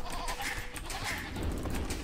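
A sheep from Age of Empires bleats in a brief, muffled burst, heard through dense game background noise with no talking.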